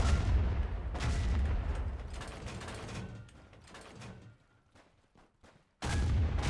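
Colonial artillery fire in the war game Thunder of War, with heavy rumbling blasts and mechanical clatter filling the first seconds. The barrage fades to near silence, then another loud burst erupts.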